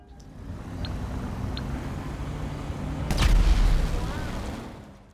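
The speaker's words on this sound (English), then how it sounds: "dialing the number will cause a small explosion above the player's head" A small explosion bursts above a player's head in GTA 5, a sudden dull boom rising out of a low steady background rumble, then fading over a couple of seconds.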